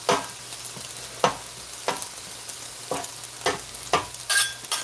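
Cubed pork tenderloin, clumped from its marinade, fries and sizzles in a pan while being stirred and broken apart, giving a steady close hiss broken by regular scraping strokes about once a second, with no talking.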